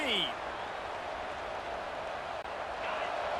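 A football stadium crowd in EA Sports College Football 26 roars steadily, a dense wash of cheering and noise that holds without pause throughout.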